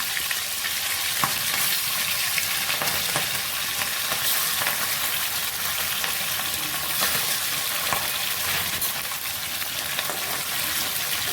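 Hilsa fish pieces frying in hot oil, a dense and continuous loud crackling sizzle that stays steady throughout, close up with no voices.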